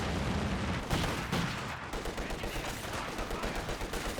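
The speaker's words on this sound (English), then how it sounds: "Conscripts firing away, can spit damage there. Conscripts drawing the MG fire." Dense rifle and machine-gun fire rattles throughout a Company of Heroes 2 battle, with sustained bursts and scattered heavier shots blending into a continuous wash of gunfire.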